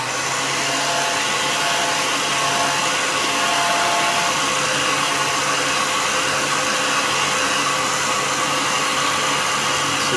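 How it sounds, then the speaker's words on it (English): Heat gun blowing hot air onto a foam grip on a custom 130 pole, a loud, steady close whirring roar that holds unchanged from start to finish with no talking. "got my heat gun, and let's see what happens with this thing."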